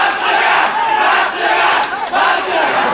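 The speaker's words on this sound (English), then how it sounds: "And the crowd starts chanting." A Japanese deathmatch wrestling crowd chants loudly and rhythmically in surging waves, massed voices close and filling the arena.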